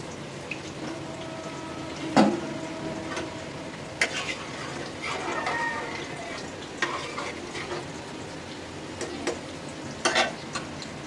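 An egg is cooking in a pan while a ridge gourd fry is being made, with a soft steady sizzle under scattered scraping and clinking, and a few sharper knocks.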